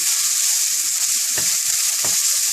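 Chopped onions sautéing in a pan, a loud, constant close-up sizzle with two brief dull knocks of stirring near the end, and no speech.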